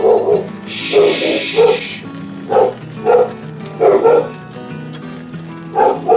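A dog barks in short repeated bursts, close and loud, with a high steady tone sounding for a moment early on.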